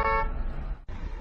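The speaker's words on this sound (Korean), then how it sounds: "신호가 빨간불인데 가서 빵빵거리고 있어요" A car horn blares for a short stretch over rumbling road traffic at a red light by a crosswalk, then cuts out briefly before the engine noise resumes.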